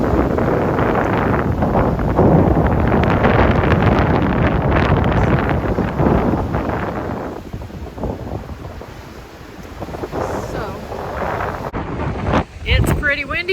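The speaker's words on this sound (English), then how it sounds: "It's pretty windy here" Strong gusty wind at a cool beach buffets the microphone with a loud, continuous roar that eases slightly midway, then surges again near the end.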